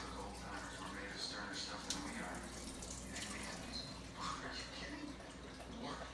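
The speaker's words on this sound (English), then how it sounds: "So we opened it, now we're draining the water." Water drains from an opened can of quail eggs, a soft continuous trickling splash with faint background voices.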